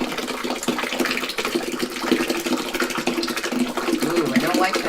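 Whey splashes and gushes as feta curds are poured into a colander, a busy wet sloshing that carries on loudly and close throughout, with a voice speaking over part of it.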